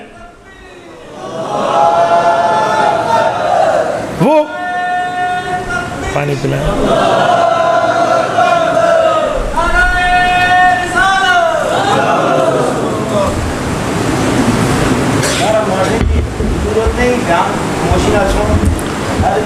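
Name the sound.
crowd chanting slogans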